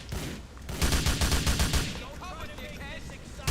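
A burst of rapid automatic gunfire rips into a car in Grand Theft Auto 4, a loud close volley of dense repeated shots that gives way to quieter ambient noise and faint mechanical whines.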